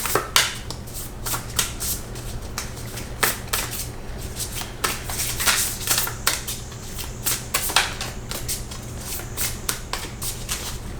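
Matte tarot cards shuffled by hand in repeated riffling bursts, crisp papery flutters and soft slaps recurring in quick irregular rhythm, close and clear with no talking.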